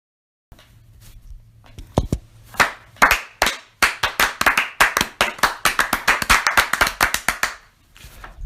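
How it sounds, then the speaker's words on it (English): Several people clap their hands together, starting with scattered claps and building into a brisk, steady run of loud, close claps before trailing off. "So why are we clapping so much?"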